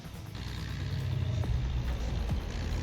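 A heavy LKT-80 skidder with a 160 HP engine works a steep, muddy slope, its deep diesel rumble steady and close, with a few sharp clanks over the low drone.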